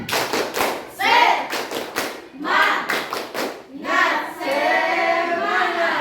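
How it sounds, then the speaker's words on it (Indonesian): Classroom students performing a patterned spirit clap, bursts of sharp unison claps in a rhythmic sequence between short chanted vocal phrases from the group, loud and close. "Oke, tepuk semangat."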